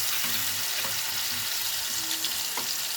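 Turmeric frying in a small amount of oil in a home kitchen, a steady close broadband sizzle with faint crackles and light stirring clinks running unbroken throughout.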